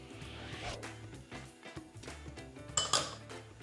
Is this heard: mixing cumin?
yes